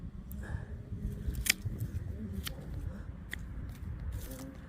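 Scissors or secateurs snip through an oca plant stem just below the foot during a garden harvest, giving a few sharp crisp cuts over a low rustling background.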